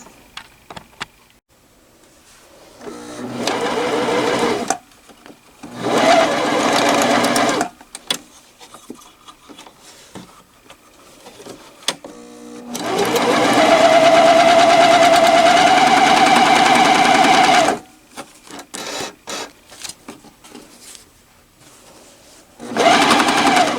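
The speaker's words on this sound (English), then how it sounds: "This is my first time on the overlock machine. But it did sew those lines there." A Janome 900 CVX Cover Pro three-spool flat lock overlock machine sews in loud, close bursts: several short runs early on, a long steady run in the middle, then a final short burst.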